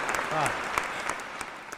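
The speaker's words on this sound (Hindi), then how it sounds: "मैं मंच से चाहूंगा मेरे कवि मित्रों से, अनुजों से कि इन श्रोताओं के लिए तालियां बजाएं, आप बजाएं।" Poets and listeners at a Hindi comic poetry recital applaud. The clapping is moderate and scattered, with a few distinct claps over a voice briefly speaking near the start.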